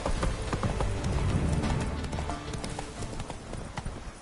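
Roach the horse gallops in Witcher 3, steady clip-clop hoofbeats running continuously and close over a busy game soundscape.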